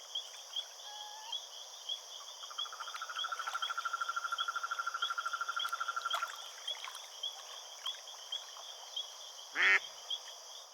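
Duck calling by a lake near Buenos Aires, a fast run of quacking notes in a steady burst amid frog croaks and insect trills, with a louder call near the end.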